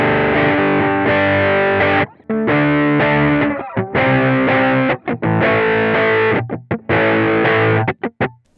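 Electric guitar played through a BOSS FDR-1 Deluxe Reverb pedal with the treble turned down, loud distorted chords and sustained notes in short phrases separated by brief pauses, no talking.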